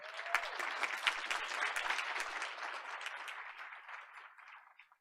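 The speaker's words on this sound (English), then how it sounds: "Let's give them a round of applause." A round of applause at a school board of education meeting, a brief burst of clapping from a modest crowd that starts strong and fades out over about five seconds.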